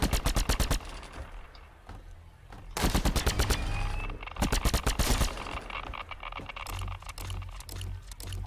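Rapid automatic gunfire from the dark horror shooter The Signal From Tolva, fired in several long loud bursts separated by short pauses, with faint ambient game noise between them.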